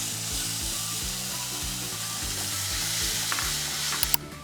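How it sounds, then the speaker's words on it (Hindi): Tomato puree hits a hot pan of fried onions for a restaurant-style paneer curry, giving a loud, steady hiss of sizzling with a faint stirring scrape near the end. "Now we can add the next ingredient, जो कि है हमारा पिसा हुआ टमाटर, मतलब टमेटो प्यूरी।"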